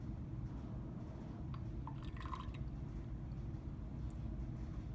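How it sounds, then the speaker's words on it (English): A sucrose and HCl mixture is poured into a tube in a lab, a brief soft liquid trickle and a few drips at mid-clip over a steady low background hum. "Swirl the mixture and then pour it into the tube."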